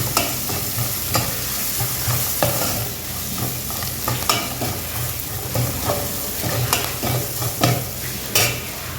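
Village pepper rasam being stirred in oil, with loud, close scraping strokes and sizzling that come in an uneven rhythm, each stir marked by a short clatter.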